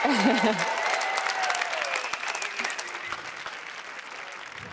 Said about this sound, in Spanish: Un aplauso para Titi